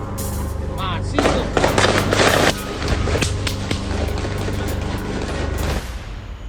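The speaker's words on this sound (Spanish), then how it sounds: "Esos son balazos, raza, ¿eh? Esos son balazos." Rapid bursts of gunshots crackle in a loud volley, several overlapping sharp reports over a few seconds, with voices talking throughout.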